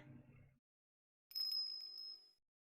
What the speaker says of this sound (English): That bell, it's...